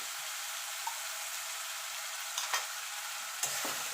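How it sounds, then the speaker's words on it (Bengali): Ginger-garlic paste and onion frying in a pan, a steady broadband sizzle throughout with a few sharp spatula scrapes and stirring knocks near the end; no voices. "এবার আদা রসুন আর পেঁয়াজটা ভালো করে একটু কষিয়ে নেবো"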